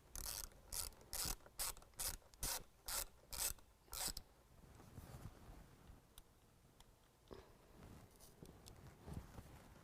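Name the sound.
ratchet loosening 10 mm battery terminal nut on 2017 Ram 1500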